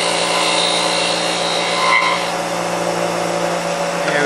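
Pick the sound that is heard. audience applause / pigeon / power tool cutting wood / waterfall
power tool cutting wood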